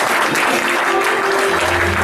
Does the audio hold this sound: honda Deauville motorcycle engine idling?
no